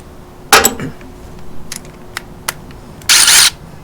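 An impact wrench works on the water pump bolts of a Unimog U1300L. Sharp, loud bursts of hammering come close up: a strong burst near the start, a few brief taps, then another solid burst near the end.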